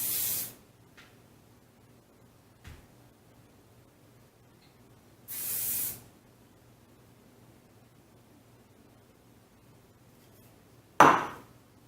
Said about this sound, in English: definitely grab the hairspray